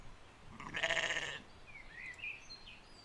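A sheep bleats in an animated children's Christmas story: one clear, fairly loud bleat, followed by a few faint chirps over quiet background.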